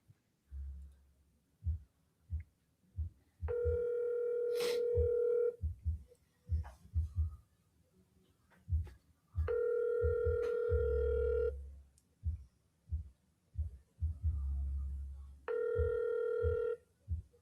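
A telephone outbound call plays back: low thumping beats under repeated tonal rings, each ring lasting about two seconds, separated by short gaps.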